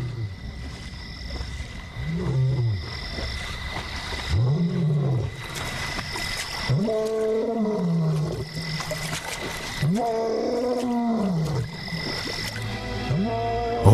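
A male lion roars repeatedly in the wild, each deep groaning bellow rising and falling in a steady series of calls that carry loudly over constant outdoor ambience, with no talk.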